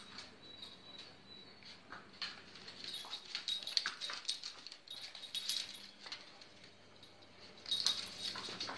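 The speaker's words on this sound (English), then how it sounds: "Sorry about that noise, it's the dog playing with her ball." Faint squeaking and light scrabbling as a dog plays with a ball indoors, a high rubbery squeak recurring irregularly with soft knocks and whimpers.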